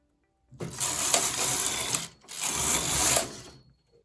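Knitting machine carriage pushed across two rows in pink viscose yarn, two long loud mechanical rattling sweeps with a short pause between them.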